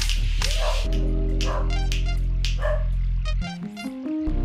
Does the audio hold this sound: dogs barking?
yes